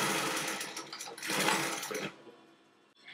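A Juki LU-563 industrial walking foot sewing machine runs fast in a loud, close, steady mechanical whir that surges for about two seconds, then drops away to near quiet.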